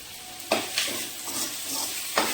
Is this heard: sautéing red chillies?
yes